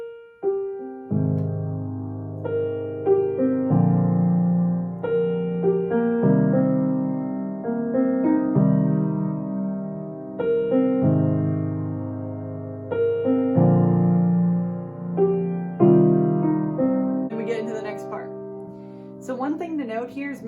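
A solo piano plays a song at full speed, steady repeating chord patterns with a clear bass line in even phrases, fairly loud and close, with a faint voice near the end.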